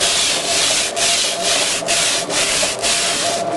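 Sandpaper is rubbed by hand over a tile surface in quick, even back-and-forth strokes. The rasping is loud, close, and steadily rhythmic, with no voices.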